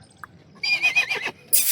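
A horse neighs loudly at a busy horse market in Yeola, with a shrill whinny rising and falling over about a second, then a second burst at the end, against low crowd murmur.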